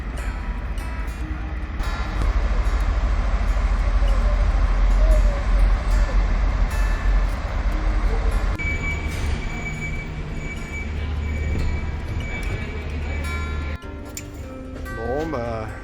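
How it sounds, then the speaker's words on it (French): A ferry arrives and backs stern-first onto a quay in Gran Canaria, with a loud, continuous low rumble and intermittent metallic squeals and clanks, while people talk nearby. "Ah, le ferry est en train d'arriver."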